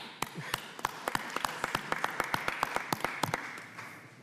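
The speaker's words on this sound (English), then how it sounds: "We got to give you a big applause." Sparse, fairly quiet applause at a meeting: a small group of hands claps in uneven, crisp individual slaps over a soft room background, lasting a few seconds.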